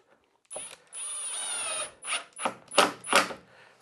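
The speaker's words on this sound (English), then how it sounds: "Just screw it in nice and snug." A screw driven into wood from underneath with a power drill, short close bursts of high whirring motor and ratcheting, one longer run followed by several brief pulses, with no talking.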